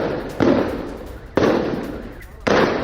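Gunfire during street fighting in Ramallah: three sharp, loud broadband reports spaced about a second apart, each decaying slowly into a noisy, echoing background.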